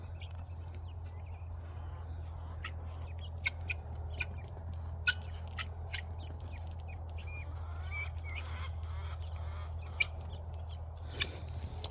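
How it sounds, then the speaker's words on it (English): Guinea fowl call from a pen in scattered sharp chirps and clucks that sit faint over a steady low hum, with no talk. "all the new guineas."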